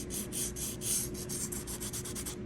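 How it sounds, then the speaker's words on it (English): Folded piece of sandpaper rubbed by hand into the creases of a thrifted piece, a close, steady rhythmic rasping in quick repeated back-and-forth strokes with no talk. "I literally have just torn off this little piece of sandpaper and I'm folding it over and I'm just getting into these creases just like this."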